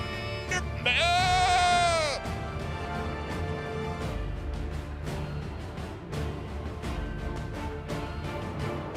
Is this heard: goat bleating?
yes